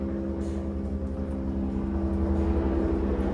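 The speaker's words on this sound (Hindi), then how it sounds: "हेलीकॉप्टर आ गया, होल्ड।" A helicopter passes over an acting scene being filmed, giving a steady, loud low droning hum with layered engine tones that holds throughout, with no talking.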